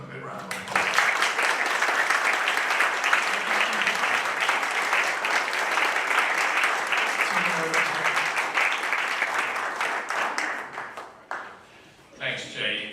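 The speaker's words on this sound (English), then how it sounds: "let's give them a good round of applause." An evening county board Democratic primary candidate forum audience gives sustained applause for six candidates, dense steady clapping that fills most of the clip before tapering off, with a voice briefly audible at the end.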